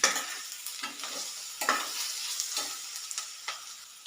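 A spatula stirs a tablespoon of ginger-garlic paste through sizzling oil in a pan for a squid roast, giving a run of distinct scraping strokes over a light, steady frying hiss, with no one talking.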